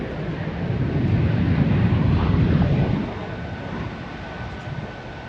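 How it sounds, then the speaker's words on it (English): An airliner takes off at Tokyo Haneda airport, a broad low roar and rumble heard from a distance that swells and then gradually fades, steady without talk. "Okay, either the plane's taking off or..."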